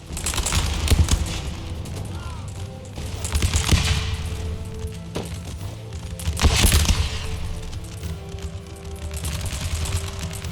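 Musket volleys crackle across an Empire: Total War battlefield, rippling bursts of massed gunfire swelling and fading in waves, with booming reports and a continuous battle din beneath.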